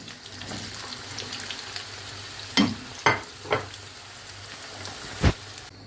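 A steady hiss of eggplant and zucchini frying in hot oil continues throughout, broken by a few sharp clacks of utensils against the pan.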